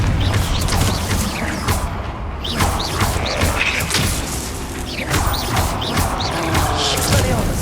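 A Confringo fire spell blasting in the Hogwarts Legacy video game, loud crashing booms and thuds amid dense combat noise and clattering effects, continuous and close.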